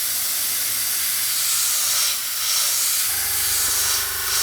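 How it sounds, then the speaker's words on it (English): An airbrush sprays Model Air acrylic paint thinned with Amsterdam acrylic retarder, giving a steady close hiss of air and paint that swells and dips in short bursts as the trigger is worked. "let's airbrush this and see how it looks"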